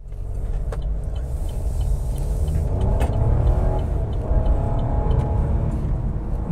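A Chevrolet Montana Premier with a 1.2 litre turbo engine and six-speed gearbox is driven along, giving a continuous low engine hum and road rumble heard from inside the cabin, steady throughout.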